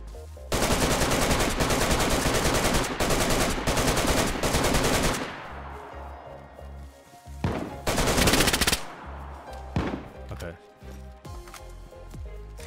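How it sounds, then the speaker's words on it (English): Heavy gunfire in DayZ, with a long, loud, rapid-fire stretch up front, then a few separate sharp shots and a shorter burst later, while a voice talks over part of it. "This guy's sniping from somewhere, but I have no idea where."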